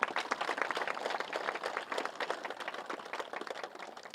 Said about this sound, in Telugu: ఒకసారి ఒకటే క్లాప్స్ కొడదాం నీలిమ మేడంకు.